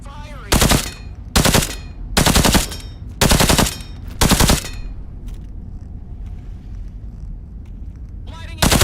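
Gunfire in the VR game Into the Radius 2 comes as five loud, close bursts of rapid shots at regular intervals, then a quieter stretch and one more burst at the end.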